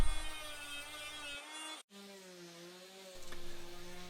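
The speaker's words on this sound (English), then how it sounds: "I'll come back with the oscillating tool to cut them flush." An oscillating multi-tool buzzes steadily as it cuts glued wooden pegs flush with the surface, with a brief break partway through before the high, even whine resumes.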